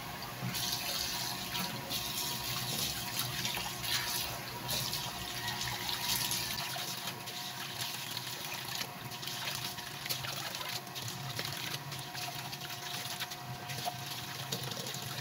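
Tap water runs steadily into a sink while a yellowfin scad is washed under it, a continuous close, fairly soft rushing and splashing with no talk.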